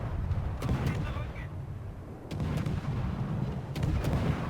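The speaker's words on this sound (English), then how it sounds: "let's open fire" Naval gunfire from the Japanese destroyer Akizuki in World of Warships: a steady, heavy low rumble broken by several sharp, brief reports in spaced bursts, loud and close, with no talk over it.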